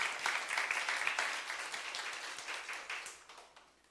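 A church congregation at a youth service claps warmly during a sermon. The dense applause is steady and fills the room, then slowly tapers off.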